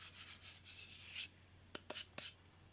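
A surface on a CNC3018 frame being abraded to key it for epoxy: short close scratchy rubbing strokes in a quick rhythm, then a few isolated scrapes, faint and without talk.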